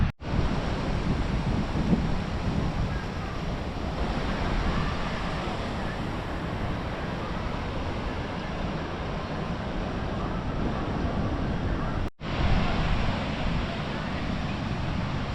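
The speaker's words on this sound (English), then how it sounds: "Lovely breeze." Constant roar of surf and gusting wind at a crowded beach in Kenitra, Morocco, loud and unbroken with buffeting microphone wind and a brief dropout near the end.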